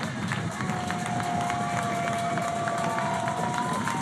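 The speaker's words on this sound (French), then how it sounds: "Public, c'est à vous de jouer. Allez, maximum de bruit pour Tim et Geoffrey." An athletics stadium crowd roars and cheers continuously during a 400-metre race, a dense wash of noise with rhythmic clapping and a faint announcer-like voice underneath.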